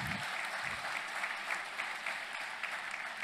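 Steady, dense applause from a large audience at President Milei's speech at a foundation, a continuous wash of clapping filling the whole stretch without pause.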